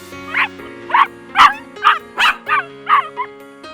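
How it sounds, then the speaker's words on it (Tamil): A hungry street puppy in an animated children's story yips in a steady series of about eight sharp, high barks, evenly spaced and close, over a faint low background tone. "தெருவில் நாய்க்குட்டி ஒன்று பசியுடன் இருப்பதை பார்த்தான்"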